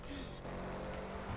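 A vehicle engine in the video game GTA gives a brief, low, steady rumble at fairly quiet level.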